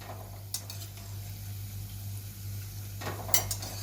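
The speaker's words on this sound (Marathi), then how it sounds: "आपण या कचोरीला आहे ना सारखं असं फिरवत राहायचं तेलामध्ये" Kachori fry in hot oil with a faint, steady sizzle while a utensil turns them, giving a few brief scraping clinks against the pan.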